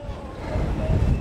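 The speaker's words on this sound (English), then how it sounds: "it is windy, definitely challenging" Strong storm wind buffets a microphone outdoors, a loud rumbling roar that builds over a second or so, with no clear voice over it.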